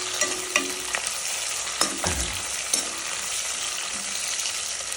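Vegetables including onions frying in a pan for vegetable rice, with a constant close sizzle and a few scattered taps and scrapes of a stirring utensil against the pan, no voices.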